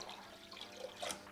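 Water poured into a bioactive paludarium for a leak test, a faint, soft trickle and splash, very brief and quiet against a light background hiss.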